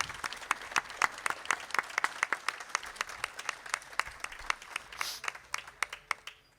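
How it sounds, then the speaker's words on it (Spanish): Audience applause at the inauguration of an interactive audio-guide plaque, steady hand claps from a modest crowd lasting several seconds, fairly close, with no talk over it. "Bienvenido al aplauso, por supuesto."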